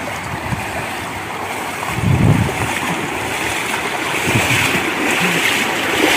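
Floodwater sloshes and churns as a tricycle with its exhaust submerged is pushed through deep flooding in San Ramon after a typhoon, a steady watery wash with a louder surge midway and wind noise.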